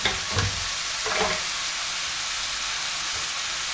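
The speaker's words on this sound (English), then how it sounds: "just toast about a teaspoon each of cardamom and cumin seeds" Cardamom and cumin seeds toasting in a hot pan give a dense, even sizzling hiss up close, with a couple of brief stirring rustles near the start and no voices.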